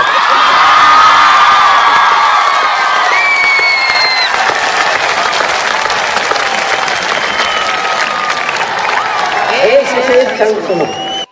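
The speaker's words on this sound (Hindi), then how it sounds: "आप समझ रहे हो तो एक बार आकाश भर तालियों से होने पर।" A large crowd at a Hindi poetry recital on Kashmir gives loud, continuous applause with cheers and whoops. Voices ring out above the clapping, which stays steady before tapering off sharply at the very end.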